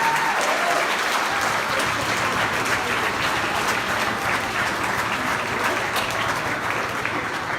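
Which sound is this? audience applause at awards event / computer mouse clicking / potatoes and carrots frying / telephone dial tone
audience applause at awards event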